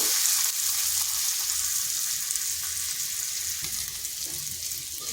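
Potato pieces frying lightly in oil in a pan with turmeric, giving a steady hiss that holds evenly and close throughout, with no voices.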